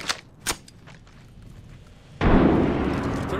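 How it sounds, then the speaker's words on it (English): A frag grenade detonates in Apex Legends, a sudden loud blast followed by a rumbling, noisy decay, preceded by a couple of sharp distant gunshots in an otherwise quiet moment. "Throwing frag."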